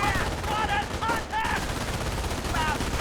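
Continuous rattling MG42 machine-gun fire from a Company of Heroes battle plays across a dense wash of game combat noise, with other gunfire and effects layered over it and faint tonal sounds rising and falling.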